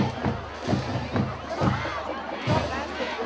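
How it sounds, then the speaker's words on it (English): A full crowd at a high school football game at Apache Stadium, Nogales versus Sahuarita, sends up loud, continuous cheering and crowd noise with a few surging peaks. "a full crowd tonight at Apache Stadium"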